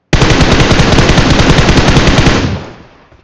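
Sustained automatic gunfire from the mobile battle-royale game BGMI: one loud, dense burst of rapid shots lasting about two and a half seconds, then trailing off, with no talk over it.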